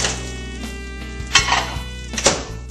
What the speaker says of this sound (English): And I'm going to stir it after each minute.